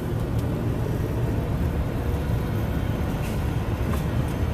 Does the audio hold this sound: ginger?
no